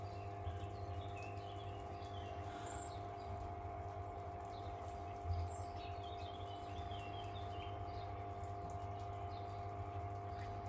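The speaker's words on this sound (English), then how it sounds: "you'll hear the pump sucking every last drop of water out" A pond pump with a siphon system sucking water out, a steady low hum and drone running throughout, with faint birdsong chirping in the background.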